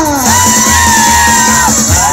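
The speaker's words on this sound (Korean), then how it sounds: "큰 박수 보내주십시오" A crowd at a Seoul mayoral election rally in Yeongdeungpo cheers loudly with shouts and whoops, close and continuous, over a droning, tonal background.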